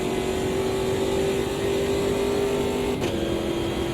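A 370hp V8 race car in Automobilista 2 powers out of a hairpin under throttle, its engine a loud, steady, close droning roar that holds for several seconds with a brief dip near the end, and no voices.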